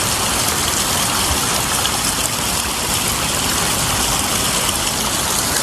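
Water from a mountain waterfall and stream gushes steadily, a loud, dense, unbroken rush close by with no voices.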